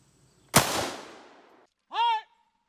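A single sharp gunshot cracks at a shooting range, a Grand Power Q1 pistol or Steyr AUG rifle, its report decaying over about a second, followed by a brief voiced exclamation.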